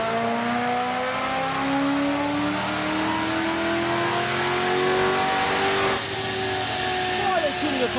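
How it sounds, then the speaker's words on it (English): A car on a dynamometer revs hard and continuously, its engine tone climbing steadily in pitch as a loud, sustained roar that dominates throughout. "The car over there on the dyno right now."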